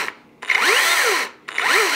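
A Dolmar cordless battery chainsaw cuts a piece of wood in two close, loud bursts of high whining motor and chain noise, rising and falling, with a short pause between cuts.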